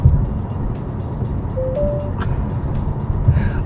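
Nissan Qashqai e-Power hybrid lane-control warning bongs sound inside the cabin, two brief electronic tones over a constant low road and engine rumble.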